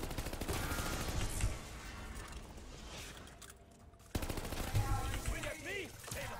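Machine gun fire in a Call of Duty Zombies match, rapid rattling bursts running loud at first, easing off midway, then surging again with clattering mechanical weapon sounds.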